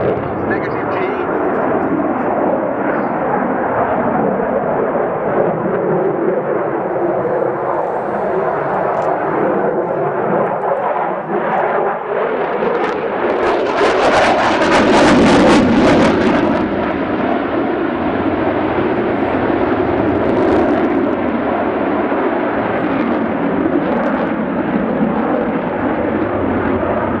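Eurofighter Typhoon fast jet displaying at the Yeovilton air show, a loud continuous roar that swells to a broadband blast mid-pass before settling back, with a commentator talking over it throughout.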